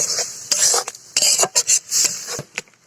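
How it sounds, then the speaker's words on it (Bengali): Spice paste rinsed out with a splash of water and tipped into a vegetarian banana flower curry, giving clinking utensil and pan sounds in irregular bursts with brief stirring scrapes, close by and with no talking. "আমি একটু জল দিয়ে ধুয়ে মশলাটা দিয়ে দিলাম"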